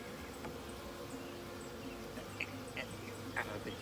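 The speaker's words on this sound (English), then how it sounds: "You wouldn't believe how many little bees they got packed inside of there. I'm sure you can hear them buzzing." Honey bees packed inside a queen cage give a faint, steady buzzing hum, with a few soft clicks and light handling noises close by.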